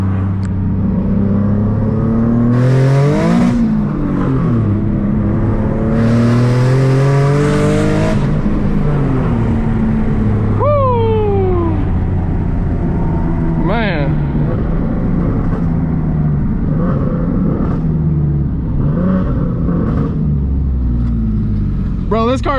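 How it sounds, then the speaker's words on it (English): A boosted Nissan 370Z screams through a hard acceleration pull, its engine note sweeping upward through gear shifts before dropping off, loud from inside the cabin with people talking over it. "Bro, this car sounds so sick."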